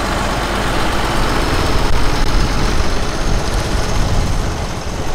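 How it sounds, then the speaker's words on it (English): An International Harvester 1466 tractor with a six-cylinder engine runs steadily nearby in a parade, giving a loud, continuous diesel rumble that holds level throughout. "Here's a 1466 with a six-cylinder engine."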